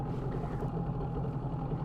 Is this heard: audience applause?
no